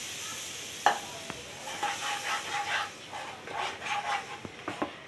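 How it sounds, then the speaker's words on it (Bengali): Water poured into fried flour in a pan sets off a quiet sizzling hiss, with a few sharp utensil clicks and soft stirring scrapes close by. "এখন আমি একটু পানি দিয়ে দিব।"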